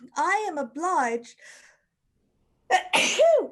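A loud, drawn-out, voiced sneeze from a performer in a Zoom reading of the play An Ideal Husband is followed by a brief pause and then a spoken line.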